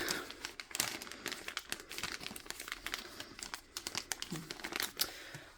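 A small plastic bag from a Diamond Art Club diamond painting kit crinkles and rustles as it is handled and unpacked, with dense, close crackling bursts running throughout and no talking.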